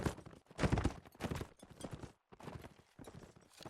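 Hooves of a horse clip-clopping in a video game, a quiet, uneven run of hoof beats in short bursts with a brief gap in the middle.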